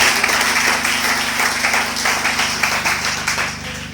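A church congregation applauds, with dense, steady clapping that fades slightly toward the end over a low electrical hum.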